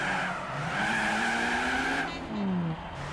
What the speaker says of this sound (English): It sounded like a little bit of a fuel cut, like a misfire almost there